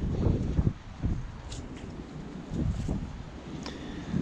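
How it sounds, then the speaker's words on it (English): Strong outdoor wind gusts at around 40 to 50 miles an hour buffet the microphone beside an apple tree, a rough continuous rumble with louder surges. "we've got a gust of 40-50 mile an hour at the moment hitting the place"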